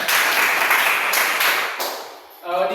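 A classroom of students claps hands together, a loud burst that fades over a couple of seconds before a voice begins speaking.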